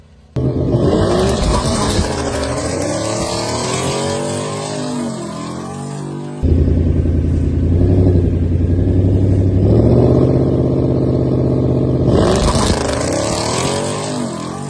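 A Whipple Stage 1 supercharged S650 Mustang makes a quarter-mile run at a drag strip, its engine roaring loud and sustained, revs climbing through gear changes before the sound drops away.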